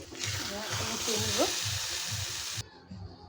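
Taro leaves, kochu shak bhaji, fry in a pan with a dense, loud sizzle and rhythmic stirring pulses, a voice faintly underneath, before the hiss cuts off abruptly near the end.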